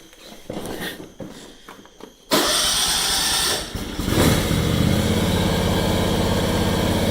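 A 2016 John Deere X570 lawn tractor engine cranks and catches, then settles into a loud, steady running drone close by, after some quieter handling noises at the start.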